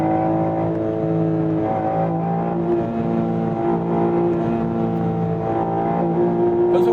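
BMW M4 Competition coupe engine pulling hard under acceleration, a steady loud harmonic drone with pitch stepping down at gear shifts around two seconds and again later, heard from inside the car with no talking.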